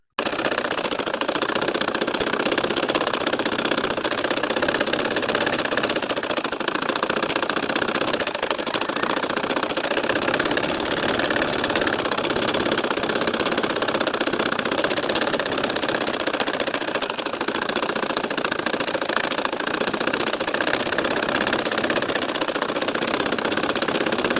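A household sewing machine stitches lines across a nakshi kantha baby quilt, running as a loud, steady, rapid mechanical clatter that continues without a break.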